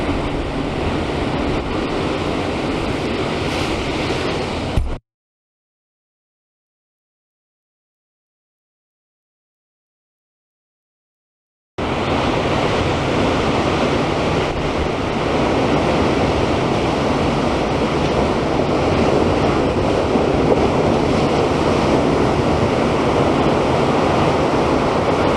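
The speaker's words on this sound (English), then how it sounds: "you should be able to hear me over the sound of the sea" Sea waves breaking on the beach at Sennen Cove near Land's End in Cornwall, a steady broadband roar of surf that runs loud and continuous, cuts out to silence for several seconds, then returns just as strong.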